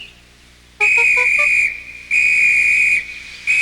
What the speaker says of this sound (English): The conductor blew his whistle till he had no more breath